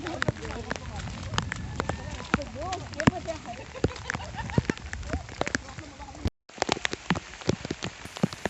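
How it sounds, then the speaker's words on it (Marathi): Continuous rain patters densely and steadily on foliage and surfaces along a monsoon hill trek from Panhala to Pawankhind, close and crackling, with faint voices mixed underneath and a brief dropout. "आणि पाच मिनिटसुद्धा पाऊस थांबला नाही आहे कंटिन्यू पाऊस पडतोच आहे"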